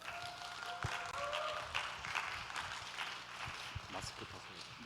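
A church youth congregation applauds as a missionary walks in, a sustained, fairly distant wash of clapping with a few sharper knocks and footsteps mixed in.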